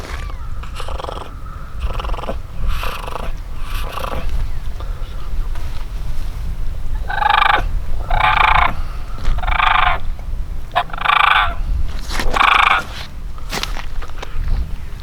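A voice imitates a wild turkey's purr and cluck with a throat gargle through a turkey mouth call, a series of rolling, rattling bursts with short gaps between them, close and fairly loud.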